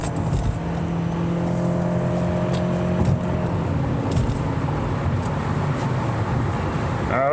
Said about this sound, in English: maybe you guys can hear the engine on this when it kicks in